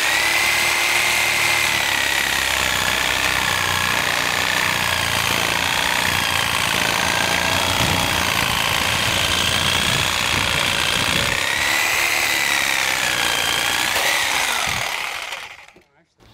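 Power saw cutting through deck lumber while being rocked back and forth, a loud continuous buzzing whine whose pitch sways up and down with the motion, running for about fifteen seconds before shutting off.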